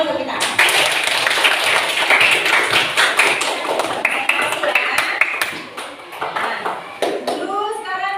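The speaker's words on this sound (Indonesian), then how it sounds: "Oke, tepuk tangan untuk kita." A classroom group of teachers claps together in a crisp, somewhat uneven burst of hand claps, with voices mixed into the clapping and a pause before a final flurry.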